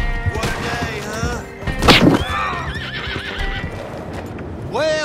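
A horse neighs loudly and whinnies again near the end, with hoof clip-clops and thuds up close between the calls.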